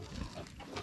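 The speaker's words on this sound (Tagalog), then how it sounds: "Namamatay pa yung isa kong alaga na baboy mga kasinag." A pet pig with its head stuck squeals and grunts close by in a short, continuous burst of distressed noise, with no talking.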